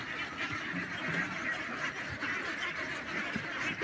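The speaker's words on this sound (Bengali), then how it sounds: "হাজার হাজার হাঁস আছে, হাঁস প্রকল্প আছে।" Thousands of ducks on a duck farm in a wide wetland quack continuously as a dense, moderately distant chorus, with no talk over it.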